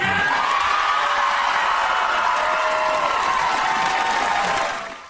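A studio audience gives sustained applause with a few whoops during a comedy monologue, a dense, even clapping roar that fades out at the end.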